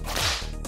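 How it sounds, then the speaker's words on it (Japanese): A single sharp, loud whip crack with a brief swishing rush, a stylized anime sound effect standing alone. "次はムチも使って"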